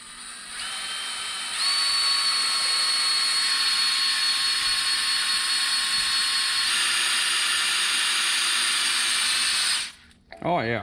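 A drill spins the oil pump drive to prime the engine of a 1990 Ford Ranger during engine prep. A loud, steady whine holds for about ten seconds, then cuts off abruptly.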